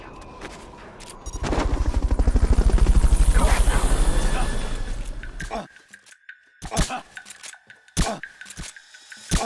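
A helicopter's rotor in the video game Metal Gear Solid: Peace Walker thumps loudly and rhythmically, swelling then fading away, followed by sharp intermittent clicks and bursts.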